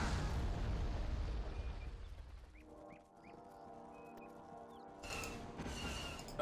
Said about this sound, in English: Commencing bombing.